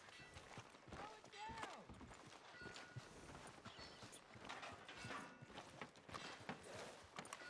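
Horse hooves clip-clopping in the Red Dead Redemption II video game, a steady rhythmic trot amid town ambience and faint game mechanisms, moderately loud and continuous, with a voice speaking briefly over it.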